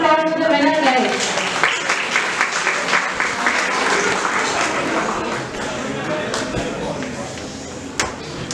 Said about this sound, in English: Can we have a round of applause for the winner,